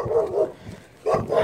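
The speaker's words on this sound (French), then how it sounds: "J'ai trouvé un autre chien." A small dog gives short yipping barks in two bursts separated by a brief quiet gap, close and fairly loud.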